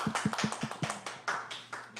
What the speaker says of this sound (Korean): 우리 축구 선수들에게 우리 대한 전사에게 한번 박수 한번 보내주시죠.